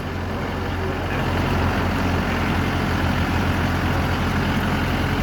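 A Lovol 504 Pro tractor with a four-cylinder diesel engine runs steadily nearby, a loud, constant low rumble and throb with no change in pace and no talking.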